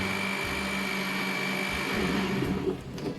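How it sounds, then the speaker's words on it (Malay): A blender runs continuously, mixing pandan flavoured batter for kuih bakar pandan with a steady motor whir, and the pitch shifts slightly toward the end. "Kemudian kita akan blendkan semua bahan ni."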